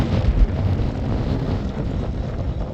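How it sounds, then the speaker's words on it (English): Steady, heavy wind buffeting a microphone while riding a 500 watt folding mini e-bike, a dense low roar with gusty swells throughout and nothing else standing out. "In that strong wind. It's still windy now."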